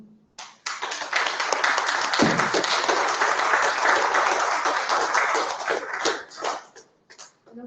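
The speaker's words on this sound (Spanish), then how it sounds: "Para ellos un aplauso." Audience applause at a small tribute event, sustained clapping from a crowd that starts abruptly, holds steady and loud for several seconds, then tapers off in scattered claps.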